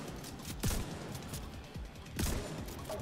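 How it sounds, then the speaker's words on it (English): Shotgun blasts in the shooter game The Division 2: two heavy, booming shots spaced about a second and a half apart, each with a short rumbling tail over quieter background game noise. "Shotgun is nasty. I love it."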